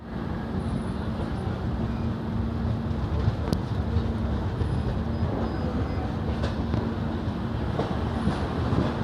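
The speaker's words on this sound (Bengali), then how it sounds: "ট্রেন এখন এসেছে 11:56 জোসিডি জাংশন" Ananya Express passenger train at Jasidih junction, a steady low rumble of rolling carriages with faint clicks and a sharp metallic tick, moderately quiet throughout.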